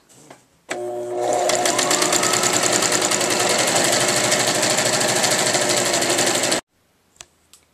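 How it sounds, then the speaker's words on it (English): A sewing machine runs a zigzag stitch along the edge of skirt fabric in one steady, loud burst of rapid needle clatter lasting several seconds, starting and stopping abruptly, followed by a couple of faint clicks. "sew along the edge of the skirt using a zigzag stitch"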